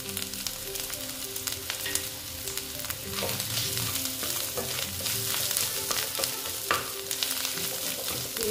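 Onions and boiled potato frying in a pan, a continuous close sizzle with frequent scraping and stirring clatter; no voices.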